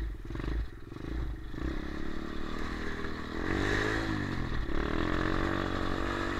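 Motorcycle engine with a faulty clutch, heard close and continuous, with a steady rough drone, rising revs and clattering, scraping mechanical noise mixed in.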